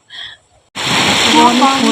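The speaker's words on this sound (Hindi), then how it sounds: "तो इतनी बारिश आ रही" Heavy monsoon rain in Dehradun pouring down in a loud, steady hiss that starts abruptly after a brief spoken word and continues without letup.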